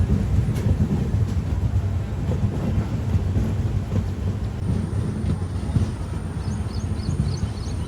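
A special express train from Kadapa to Guntakal pulls out of the Kadapa platform toward the outer signal, a steady, loud, broadband rumble that continues unbroken throughout with no voices.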